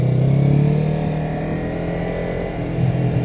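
A Yamaha MT03 motorcycle engine drones steadily on a racing circuit, a loud, continuous hum that swells slightly near the end.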